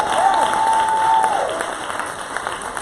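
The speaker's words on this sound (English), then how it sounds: "Will y'all clap for these men?" A church congregation claps for a group of men in steady, close applause. A brief whistle or cheer rises over it early on, and the clapping then thins slightly.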